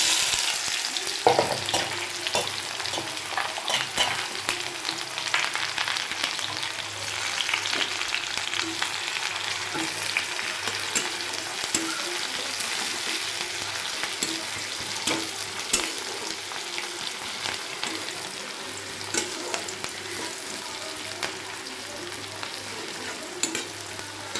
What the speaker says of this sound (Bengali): পেঁয়াজটা আমার প্রায় ভাজা ভাজা হয়েই এসছে